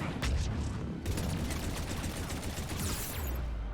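Rapid bursts of gunfire in the shooter Mass Effect 3, a dense, continuous clatter of shots with booming low end throughout, loud and close with no pauses.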